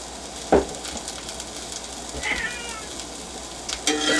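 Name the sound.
cat meowing in kitchen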